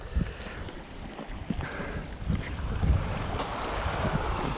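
An offshore breeze blowing over a beach while surf washes against the shore, a soft rushing of waves with wind buffeting the microphone, steady and fairly faint with no talk.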